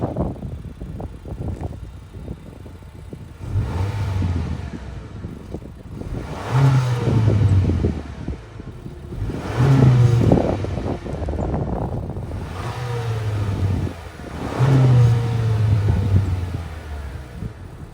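The 1.5 liter turbo four-cylinder of a 2023 Honda Accord runs near the microphone, a low idle hum swelling in several short revs that rise and settle roughly every few seconds, with no talking.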